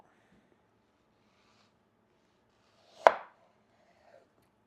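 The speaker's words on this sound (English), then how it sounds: "grip it like this and cut around the seed, down and straight" A kitchen knife cuts through fruit around its seed on a board, making a single crisp chopping thud in an otherwise quiet room.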